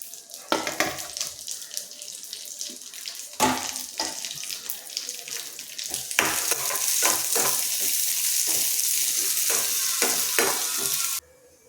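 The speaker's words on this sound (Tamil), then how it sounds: "கிஸ்மிஸ் பழத்தை வறுத்து எடுத்துக்குவோம்." Raisins frying in a pan, heard as close stirring scrapes and crackling over a sizzle that grows to a loud, steady hiss in the second half before stopping abruptly; no talk.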